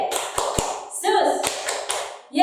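Children's rhythmic group clapping chant at a Sunday school, with a few sharp hand claps and taps between chanted voices, close and moderately loud.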